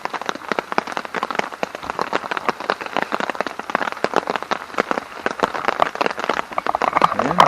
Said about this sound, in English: when it rains like this